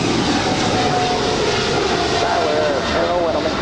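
A four-year-old Boeing 777 freighter departs Los Angeles International Airport with a continuous loud jet engine roar and a faint shifting whine, while a voice talks over it.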